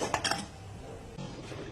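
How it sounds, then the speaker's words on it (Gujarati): A metal lid clinks and rattles onto a pot of khandvi batter in a pressure cooker, a few quick clanks at the start and then quiet kitchen background. "તો હવે આ બેટરને આપણે ઢાંકણ બંધ કરી દઈશું"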